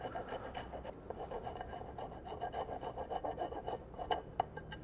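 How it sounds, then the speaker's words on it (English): Parmesan cheese grated on a fine microplane for a steak frites recipe, a soft steady rasping scrape repeated in quick strokes, close and fairly quiet with no talking. "I'm using the microplane to make it super fine."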